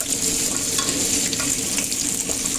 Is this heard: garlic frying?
yes